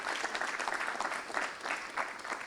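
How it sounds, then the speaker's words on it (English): Dense audience applause at a book launch event, a continuous wash of many hands clapping with slight swells, moderately loud and steady throughout with no voices over it. "Let us give him a round of applause for the 2 books that you are launching today."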